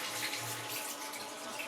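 Running tap water pours steadily into a sink while fish is rinsed, a constant close splashing hiss with no pauses.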